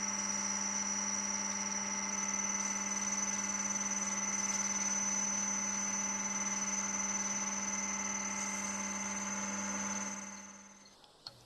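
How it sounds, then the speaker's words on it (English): A wooden finial spins on a woodturning lathe while it is sanded and friction-polished, giving a steady, close motor whine with a faint rubbing hiss. The sound holds evenly, then winds down and fades near the end. No one talks. "Before going any further, sand and polish the finial."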